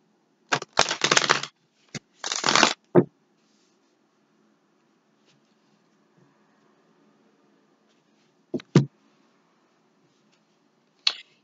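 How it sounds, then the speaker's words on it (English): Tarot cards being shuffled by hand: two quick riffling bursts of papery rustle close by, a few crisp taps, then quiet with a couple of brief card snaps near the end. "Let me give this a couple shuffles."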